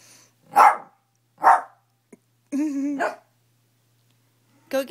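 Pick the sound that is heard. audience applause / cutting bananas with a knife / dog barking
dog barking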